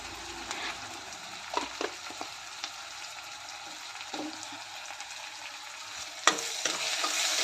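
Onion and tomato sautéing in a pan with salt, a steady close sizzle broken by a few sharp stirring scrapes and clicks of a spoon against the pan.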